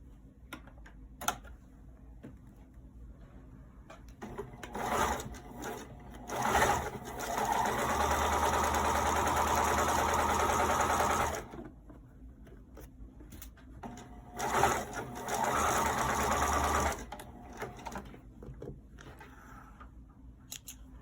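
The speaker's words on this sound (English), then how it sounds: "I am going to sew this down. I'm going to use a zigzag stitch." Sewing machine running a zigzag stitch to tack down a pocket, heard in several bursts: short stop-start runs, then two longer steady passes of buzzing stitching, with quiet handling noises between.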